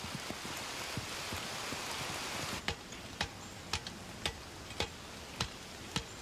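Rain falls steadily on a muddy field where soldiers dig in, a soft continuous hiss with sharp regular ticks in the second half, no voices.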